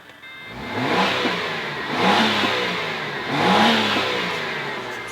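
A Ford AU Fairmont Falcon sedan, low on fuel and under front-end smash repair, cranks and starts, then revs up three times in slow rising swells close to the microphone.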